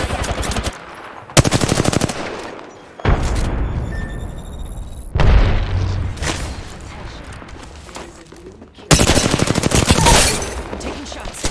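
Gunfire in Apex Legends: loud bursts of rapid automatic fire, several long volleys separated by brief gaps, with a booming hit and footsteps in between, while a player speaks briefly.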